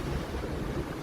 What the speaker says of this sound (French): ce sont des vagues qui font au moins 2 mètres de hauteur